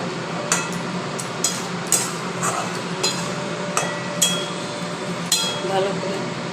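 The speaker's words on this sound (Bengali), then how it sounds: "ভালো করে নেড়ে নিলাম" A spoon stirs cashew paste with melon seeds and chillies in a cooking pan for a doi potol curry, giving sharp metallic clinks at irregular intervals over a soft background hiss, with a voice talking in between.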